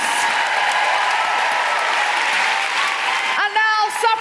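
A live audience at a feminist comedy podcast show applauds with dense, sustained clapping. A voice begins speaking over the tail end.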